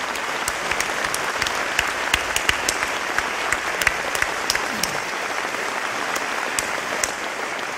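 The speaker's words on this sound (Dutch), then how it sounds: "ik wil applaus vragen voor alle medewerkers van dit fantastische theater" Theater audience at the Meervaart in Amsterdam applauding, dense sustained clapping from a large crowd throughout, with sharper individual claps standing out over the steady wash.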